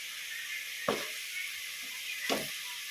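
A snakehead fish dish simmers in a pot, a steady soft hiss of cooking filling the background, broken twice by brief clattering stirs or lid knocks.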